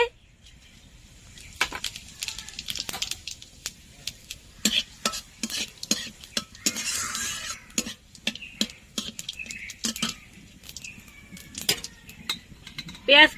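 Whole dried red chillies and cumin seeds fry in a pan, giving a light crackling sizzle broken by repeated sharp stirring and scraping clicks, close and fairly quiet, with no talk.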